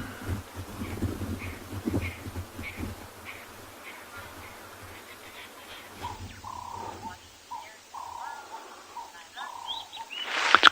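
Birds calling during a sunrise safari in the African bush, a run of short, repeated chirps and whistles at moderate distance, with a louder burst of calls at the end over low ambient rumble.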